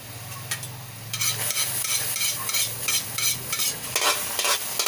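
Eggplant frying in a little oil in a pan, a steady sizzle joined by repeated rhythmic scraping strokes as it is stirred, close and fairly loud.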